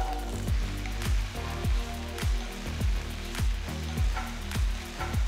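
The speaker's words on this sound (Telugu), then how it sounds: "ఇందులో బెండకాయ ముక్కలు వేసి ఒక్కసారి కలిపిన తర్వాత 1 టీ స్పూన్ అంత ఉప్పు వేసి 5-6 నిమిషాలు వేయించాలి." Okra pieces frying with salt in a pan, a steady bright sizzle with regular soft stirring scrapes roughly every half second, fairly quiet and close with no talking.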